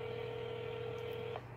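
A telephone keypad sounds a steady DTMF dialing tone that holds for over a second before cutting off, followed by a faint short beep, clear and close with no voices.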